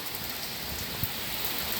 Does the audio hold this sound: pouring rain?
yes